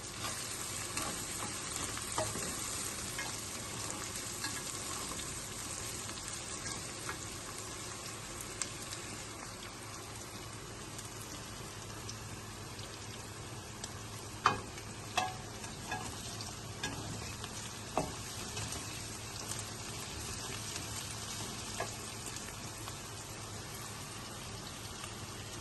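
Whole garam masala spices fry softly in a pan for chicken karahi, a faint, continuous crackling sizzle with a few sharper pops scattered throughout, steady and close, with no talking.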